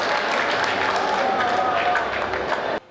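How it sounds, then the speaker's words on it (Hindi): An audience at a Hindi comic poetry event breaks into dense applause mixed with voices, the clapping continuing steadily before cutting off abruptly. "एक बार मेरे अपमान में और उनके सम्मान में ताली बजाइए।"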